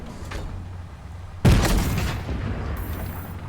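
Gunfire in the Fortnite video game, a sudden loud blast midway followed by a sustained burst of noisy shots and rumble over a steady low game background.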